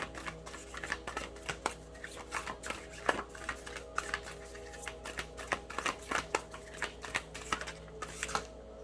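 Tarot cards being shuffled by hand, a steady run of crisp riffling slaps and flutters in close, fairly quiet bursts, repeated over several seconds with no talking.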